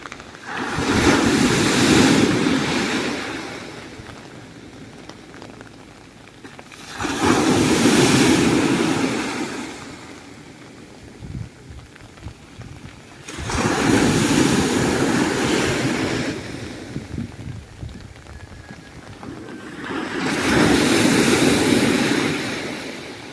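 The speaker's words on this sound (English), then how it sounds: "Big waves here." Big ocean waves break on Driftwood Beach in Barrio Barretto, Zambales, Philippines, during Super Typhoon Noru, with wind. Four loud, close surges of crashing surf rise and fall in slow succession.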